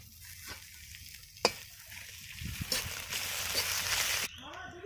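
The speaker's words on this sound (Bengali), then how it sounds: "পেঁয়াজটা ভালো করে লাল লাল করে ভেজে নিয়েছি, রসুন বাটা দিয়ে দিচ্ছি এবারে।" Garlic paste goes into a pan of onions fried until red, and the mix sizzles and fries steadily while a spoon stirs and scrapes through it, with a few louder clinks along the way.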